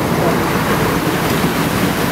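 Floodwater rushes during heavy rain in a Rio de Janeiro neighborhood, where a taxi was swept into the river. A loud, steady, broadband roar of churning water fills the whole stretch, with no talking.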